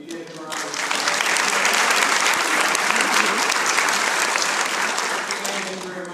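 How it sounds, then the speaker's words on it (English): An audience applauds the mayor at a public event, a loud sustained crowd clapping that builds quickly and holds for several seconds before tapering slightly. "If you give him a round of applause."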